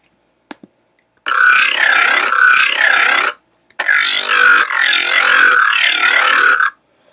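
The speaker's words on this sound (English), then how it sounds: "It's pretty low, growly, gargly kind of sounding." A low, growling bass synth patch plays two long, loud sustained phrases, gargling and wobbling in a burp-like way, separated by a short gap and preceded by a few faint clicks.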